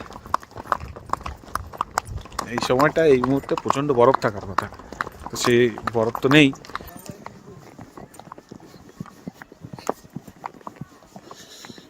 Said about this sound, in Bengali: ঘোড়ার সফর চলছে এই যে ঘোড়া ঘোড়ার সফর ঘোড়া এদিক ওদিক দুলছে ঘোড়া পাহাড়ি রাস্তা